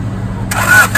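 A 1994 Honda Civic hatchback's B16 twin cam engine runs close by with a Toyota Xrunner exhaust, a steady low idle that swells into a brief rev.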